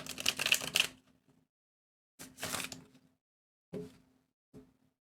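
Tarot cards are shuffled in short, crisp bursts of riffling, first a longer one, then a second, followed by two brief taps, close and fairly quiet with no talking.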